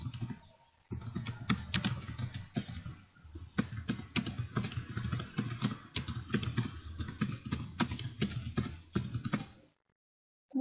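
Someone types footer text into a document on a computer keyboard: quick, uneven bursts of close key clicks and taps over about ten seconds, then a stop, with no talk.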